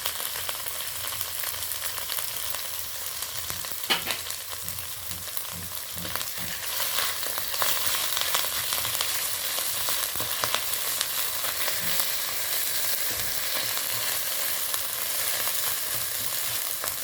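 Garlic and ginger paste frying in a pan for a spicy katla fish curry, a continuous hiss of hot oil with a few utensil taps and scrapes, steady and close, without speech.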